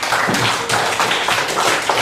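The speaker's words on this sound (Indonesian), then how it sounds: "tepuk tangan buat anak" A classroom of students claps for a classmate in a brief burst of fast, dense, close applause.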